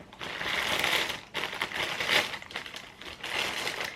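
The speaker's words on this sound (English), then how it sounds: "I'll go ahead and take the plastic bag off of that" A plastic bag is pulled off a new air purifier filter, giving close, loud crinkling and rustling in several bursts with short pauses between them.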